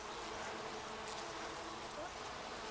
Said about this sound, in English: pale blue flowers that are being harvested by lots of very, very happy bees